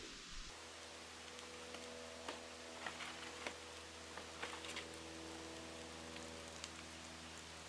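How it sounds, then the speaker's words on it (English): Steady rain patters outdoors in the Alaskan wilderness, a soft continuous hiss with scattered sharper drops tapping nearby surfaces. "the wind shifts, the sky darkens, and the rain returns"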